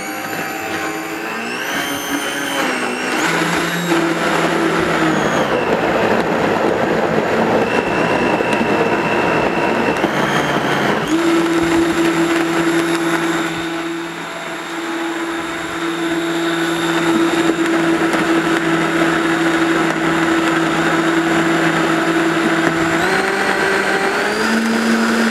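A Vitamix blender runs loud and steady, blending a fat-free vegan cheddar cheese sauce. The motor whine shifts pitch several times as the speed changes and the load settles, with no voices.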